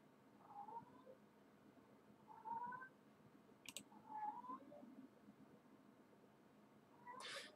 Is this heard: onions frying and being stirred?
no